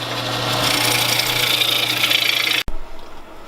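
A wooden bowl spins on a wood lathe as a tool cuts into it, making a steady loud scraping hiss with a low motor hum underneath. The sound stops abruptly near the end, then a quieter whir follows.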